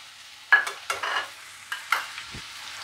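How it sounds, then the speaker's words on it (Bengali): Ghee frying in a pan for potol pulao, heard as a few brief, faint sizzling bursts and stirring scrapes spaced across a quiet background. "একটু ভাজা ভাজা করে নিই, সাঁতলিয়ে নিই"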